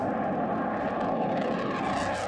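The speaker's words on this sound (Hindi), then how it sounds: "लद्दाख में भारतीय वायुसेना के सबसे नए और सबसे शक्तिशाली लड़ाकू विमान रफाल की उड़ान" A Rafale fighter jet of the Indian Air Force flies over Ladakh, its engine making a loud, steady, broad roar that fills the whole stretch without letting up, with no voices.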